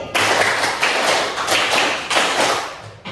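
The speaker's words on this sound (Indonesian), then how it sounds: "tepuk 2 kali" A classroom of students in Bali claps together on a teacher's cue, producing loud, close, thumping bursts of hands striking in a short rhythmic group that ends after about three seconds.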